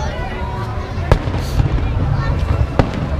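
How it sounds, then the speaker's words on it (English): Fourth of July fireworks bursting behind a building, a string of sharp booms and pops over a steady outdoor rumble, with people talking in the background. "the fireworks are shooting behind this building"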